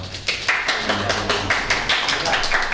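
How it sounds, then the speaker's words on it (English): Audience applause after a final performance of a Sondheim show, a steady wash of many hands clapping at close range with a few louder claps standing out. "give these guys a big round of applause"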